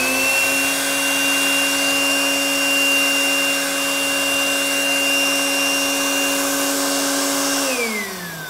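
An air blower pushes air through a pipe with a loud, steady whirring hum and a constant rushing hiss, then winds down in pitch as it switches off near the end.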